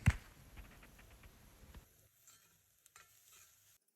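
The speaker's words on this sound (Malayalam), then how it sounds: "ഈ സവാളയൊന്ന് ഗോൾഡൻ കളറാവുന്നത് വരെ ഒന്ന് സോട്ട് ചെയ്ത് കൊടുക്കാം" Onion with green chilies sautés in a pan for egg masala, a soft, fairly quiet sizzle with light stirring for about two seconds before it drops to near silence.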